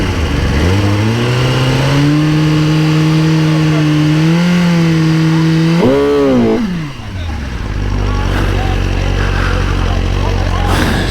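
Sport motorcycle at the track, a 2021 GSXR 1000R or ZX10R, revving hard for a burnout: a loud sustained engine roar climbing in pitch, a quick blip and drop, then steady idle rumble.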